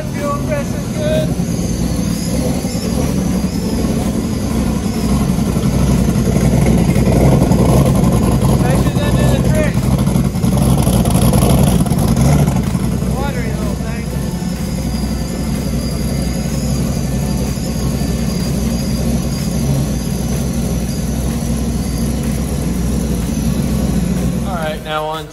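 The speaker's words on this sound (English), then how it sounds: "engine makes good oil pressure" A car engine runs close by for a long stretch, giving a steady low drone that swells slightly in the middle without sharp revs.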